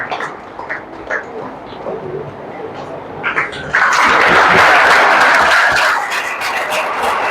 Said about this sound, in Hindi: तालियों से जोरदार स्वागत करिएगा